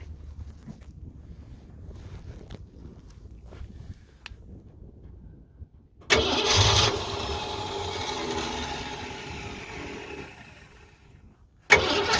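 Quiet outdoor rumble, then a 1965 Ford Mustang Fastback's engine abruptly cranks and catches around midway, settling into a loud steady idle, with another burst of noise at the end.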